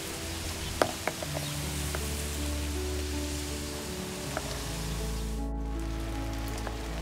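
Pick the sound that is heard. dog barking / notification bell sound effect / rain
rain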